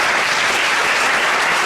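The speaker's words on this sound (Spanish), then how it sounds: "Denle un fuerte aplauso al Rey." A church congregation claps loudly during a pastor's sermon, a continuous dense burst of applause that fills the short stretch with no pauses and no talking.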